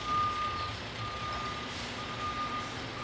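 A smoko food truck sounds its reversing alarm, giving repeated steady beeps at moderate distance over a low background rumble, with no speech.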